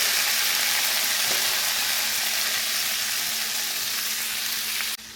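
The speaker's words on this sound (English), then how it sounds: "So now I'm going to add the green beans." Green beans sizzle steadily in a hot frying pan with a dense, even hiss that carries on for several seconds alone, with a faint clink near the end.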